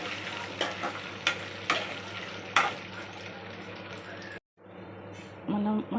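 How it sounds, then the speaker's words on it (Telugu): Peanuts, dried red chillies and cashews fry in oil as a tempering, giving a steady close sizzle broken by several sharp stirring clinks and a brief pause, with a voice faintly at the end. "పల్లీలు, ఎండుమిరపకాయలు, జీడిపప్పు కూడా వేసి ఫ్రై చేసుకోవాలి"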